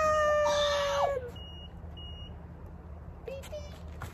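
A portable folding washing machine with a heated dryer sounds a bright electronic beep pattern when its cycle ends. Brief tones follow over a steady hum, then more faint beeps.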